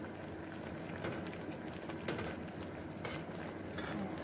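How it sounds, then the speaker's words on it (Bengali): Water bubbling at a steady boil in a cooking pot on the stove, a soft continuous rolling burble with a few faint clinks, close and fairly quiet, no talking. "এই যে ফুটতিছে"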